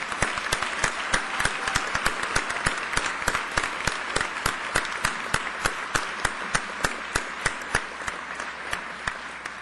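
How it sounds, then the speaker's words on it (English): A graduation crowd applauds steadily at a fall ceremony, dense clapping with distinct sharp hand claps close by over a wider wash of audience applause. "join me once more in applauding your amazing success"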